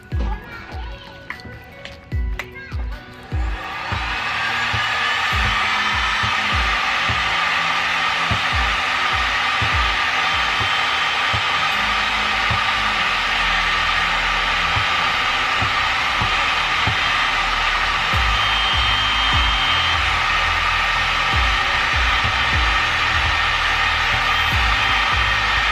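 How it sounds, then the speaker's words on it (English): Heat gun warming heat shrink tubing on a vehicle wiring harness: after a few seconds of clattering handling and a voice, a loud, steady blowing roar starts close by and runs on without a break. "Then take a good old heat gun."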